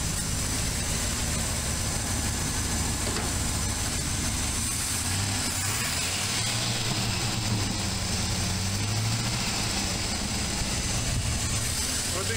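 A truck engine with a freshly rebuilt and tuned Q-Jet carburetor idles steadily up close, a continuous low rumble with a faint ticking edge, while someone talks quietly over it.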